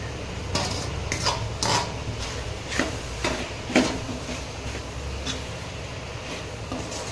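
Fried prawns are tipped into a pan of softened tomato gravy, with a metal spoon scraping and knocking against the pan in a series of sharp, close clatters over a low background hiss.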